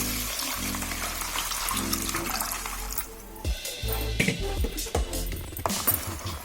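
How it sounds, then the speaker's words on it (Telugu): Thin buttermilk pours into a salted bowl as a close, gurgling liquid stream for about three seconds, then breaks into splashy trickles and a few clinks. "ఇప్పుడు ఈ ఉప్పు వేసుకున్న బౌల్లో వేసేస్తున్నాను."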